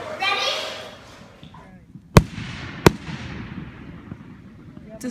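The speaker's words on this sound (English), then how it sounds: "you can't even see the fireworks" Fourth of July fireworks go off outdoors as two sharp, loud bangs a little under a second apart, over a wash of crackle and crowd noise, with people talking and a voice nearby.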